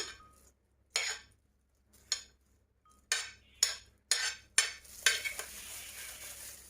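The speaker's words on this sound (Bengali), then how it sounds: "এবার আমি সবগুলো উপকরণ একসাথে মিক্সড করে নিব ক্যাপসিকামটা দিয়ে নিচ্ছি সাথে অ্যাড করে দিচ্ছি পেঁয়াজ কুচি" Capsicum, onion and other pizza topping ingredients are stirred and mixed together: a quiet series of about seven separate scraping, clinking bursts that run into continuous mixing near the end.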